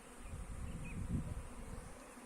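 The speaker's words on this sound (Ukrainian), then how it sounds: "Ось так бджола облітується." A soft, steady buzzing of many honeybees flying around a nucleus hive in the evening, a low continuous drone with faint outdoor background.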